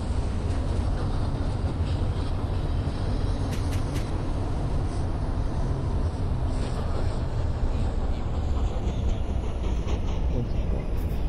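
A simulated New York subway 4 train runs in the OpenBVE train game, a dense, continuous rumble of wheels and motors with faint voices underneath throughout.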